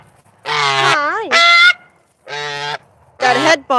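Pet goose honking close by: loud, nasal honks in separate bursts, some rising and falling in pitch, with brief silences between them.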